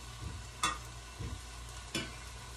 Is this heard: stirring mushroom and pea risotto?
yes